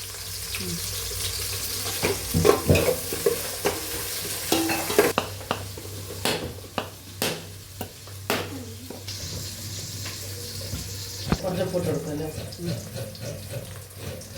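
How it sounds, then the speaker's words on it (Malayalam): Curry leaves hit hot oil in a home kitchen pan and are stirred, giving a steady sizzle with repeated scraping and clinking strokes of a spoon against the pan, close and moderately loud, with no talking. "ഇനി നമുക്ക് അതിലേക്ക് വേപ്പിൻ്റെ ഇല ഇടാം."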